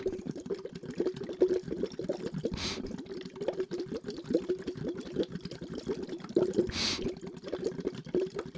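Bubbling, gurgling water from air blown steadily through a straw, with a continuous churning burble and two brief breathy inhales.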